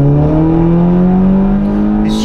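An Audi TT 2.0 TFSI with a Stage 1+ tune, downpipe and stock exhaust revving loudly up close, a steady rising engine drone held for a couple of seconds before easing off.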